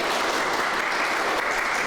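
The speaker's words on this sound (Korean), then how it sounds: "박수로 환영하겠습니다." A church congregation in Prague claps to welcome a visiting member during a Sunday service, a brief dense burst of applause that stays steady throughout.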